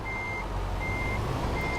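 Truck reversing alarm in Euro Truck Simulator 2, three evenly spaced steady beeps over a low idling diesel engine rumble.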